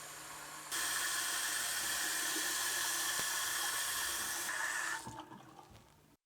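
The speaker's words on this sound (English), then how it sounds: "when doing simple tasks like brushing your teeth, turn off the water" Water runs steadily from a tap at a sink while teeth are brushed, a constant rushing stream that starts abruptly, holds for several seconds, then tapers off.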